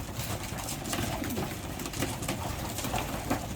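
Racing pigeons coo softly in a loft, their low burbling calls repeating over a constant background hiss of wind or fans.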